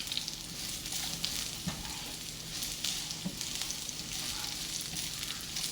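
Whole spices such as cardamom and cinnamon fry in oil in a pan for an Eid-style orange masala chicken, giving a steady, dense sizzle with small crackles and pops throughout, alone and fairly close.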